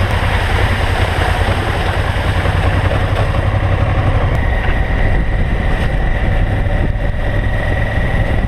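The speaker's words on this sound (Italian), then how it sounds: "la moto di Antonio sta avendo un leggero problema di minimo" A motorcycle engine with a slight idle fault idles steadily and loudly up close, its low rumble uneven and sputtering slightly, with no voices.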